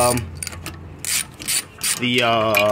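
A ratchet removes the bolt holding a brake rotor onto a vehicle spindle: close metallic clicking and ratcheting bursts, followed by a brief whirring spin, with no talking.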